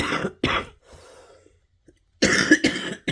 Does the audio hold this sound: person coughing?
yes